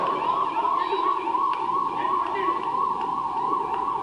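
An ambulance siren wails continuously as the vehicle speeds through the Korlapadu toll plaza, a loud, steady rising-and-falling tone held close throughout with no talk over it.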